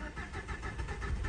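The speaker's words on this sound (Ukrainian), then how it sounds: "вона тяжко запустилась" A used Nissan Qashqai with at least 200,000 km on it cranks and struggles to catch, its engine turning over in a rough, uneven churn for a brief moment with no talking.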